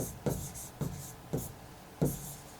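Writing on a board during an electronics lecture, four distinct scratchy strokes spaced roughly half a second apart, close and clear with no speech.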